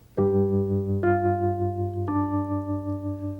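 Sustained piano notes: a low G octave held while a higher G enters, then another change, tones ringing and overlapping, played alone and clearly.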